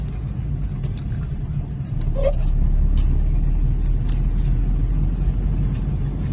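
A car driving along a road in the rain, a steady low engine and tyre rumble that swells slightly partway through, with faint hiss and no clear talking.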